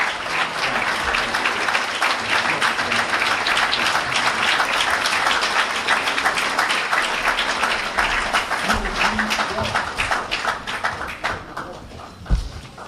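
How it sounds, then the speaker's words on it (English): A large audience applauds loudly and steadily for a speaker at a New York lecture on Islam, the dense clapping fading slightly near the end. "Let's give him a New York well-deserved round of applause."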